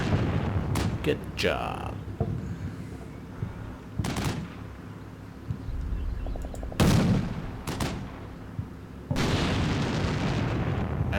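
Tank cannon blasts and gunfire in the video game Combat Mission Black Sea: several sharp, loud booms spaced a few seconds apart over a rumbling battle background, while someone talks between the shots.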